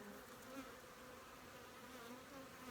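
Honey bees on an open hive frame of brood, a low steady buzzing hum that stays faint and continuous throughout, with no one talking.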